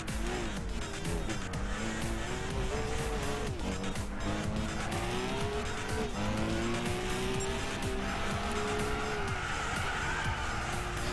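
A race car howls around the Nürburgring in Gran Turismo 6, a classic muscle car with a loud, steady engine note rising and falling through gear changes, with tires squealing through the corners.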